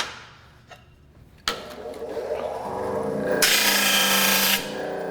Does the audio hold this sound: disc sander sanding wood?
yes